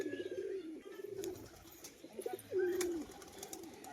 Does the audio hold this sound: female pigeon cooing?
yes